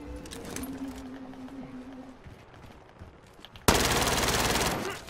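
A Mac-10 submachine gun in Call of Duty Warzone on Rebirth Island rips out a loud, very rapid burst near the end, after quieter game ambience and footsteps.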